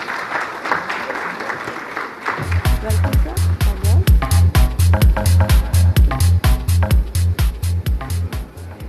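An audience at a national symposium in India breaks into loud applause for a speaker. A brief murmur comes first, then steady, rhythmic clapping with strong beats carries through to the end.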